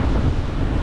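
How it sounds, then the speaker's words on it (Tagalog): Strong wind by the sea buffets the microphone in a steady low roar, with surf and water noise blended underneath and no voices. "Ngayon na malakas ang hangin."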